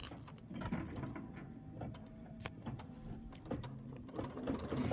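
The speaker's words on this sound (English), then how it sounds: "This is 3 minutes of stitching." A sewing machine running through quilting stitches on a Kimberbell Hello Sunshine block, a steady busy mechanical whir with light clicking, close and continuous for the whole stretch with no talking.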